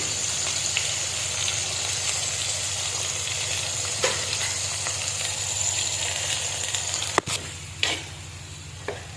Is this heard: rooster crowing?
no